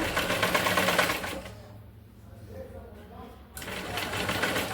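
A sewing machine stitching a blouse neck piece whirs in a close burst, stops briefly, then starts again, while a person talks over it.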